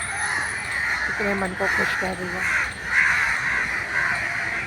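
Crows cawing on a cold winter morning in Delhi, a cluster of harsh repeated caws near the middle, with someone talking over the birds and steady background chatter.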